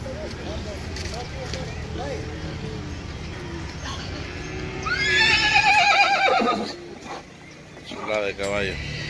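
Horse at a gathering in El Tránsito, San Miguel, El Salvador gives loud, close whinnies over a murmur of outdoor background noise, with hooves clopping nearby.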